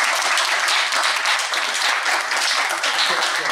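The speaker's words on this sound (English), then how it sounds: "please give a big round of applause to our panel" Dense, steady applause from an audience at a public panel discussion on Gaza and Israel, even and continuous throughout with no pauses.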